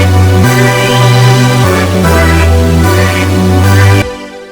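A loud, dense stack of layered synths over a thick Reese bass made in Serum, with sustained chords shifting every half-second or so in a modern trap beat, cutting off abruptly near the end.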